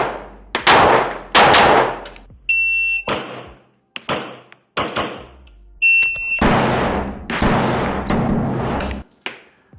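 KRISS Vector shots ring out loud and close in several sharp bursts of quick doubles separated by short pauses, with electronic shot-timer beeps between strings and no talking.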